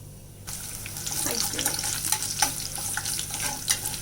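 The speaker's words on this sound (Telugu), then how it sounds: "పోపు సమ్మలు వేగిపోయినాయి కదండి" Oil sizzles and crackles steadily as tempering spices fry in a pan, starting abruptly after a brief quiet moment, with occasional sharp pops.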